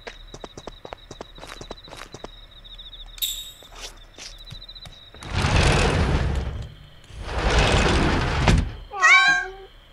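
A cat meowing in the horror game Yomawari: Midnight Shadows, a short burst of meows at the end after sparse footsteps and two long rushing noise swells, no talk.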